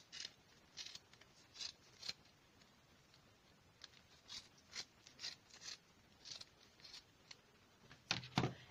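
Scissors snip repeatedly through yarn wrapped around a pom-pom maker, a quiet, close series of crisp cuts in an uneven rhythm, with a quick burst of snips at the end.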